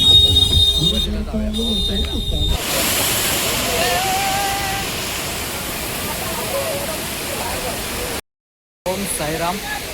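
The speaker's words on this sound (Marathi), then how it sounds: "धबधबा आहे खूप मजा येते" A waterfall where children bathe roars as a broad, constant rush of water close by, with faint voices and other tones over the start before the water noise takes over.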